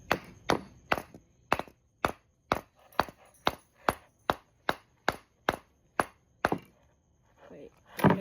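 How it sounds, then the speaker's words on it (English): Metal tapping on the planetary gear clutch inside an electric hub motor, a run of about fifteen sharp, evenly spaced knocks close up, followed by a brief rustle and one final louder tap. "Give it a couple taps."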